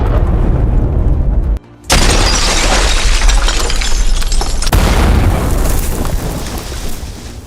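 Fireworks explode loudly and continuously, a dense wall of booms and crackling bursts with one brief gap before the barrage resumes, close and overwhelming.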